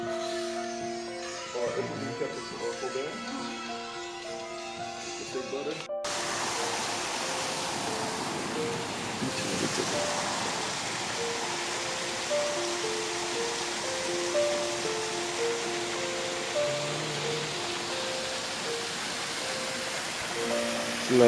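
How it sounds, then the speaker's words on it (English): Continuous rushing water, like a small waterfall, runs as a steady broadband hiss, with a tonal melody and some talk layered over it. "it's a nice little waterfall there."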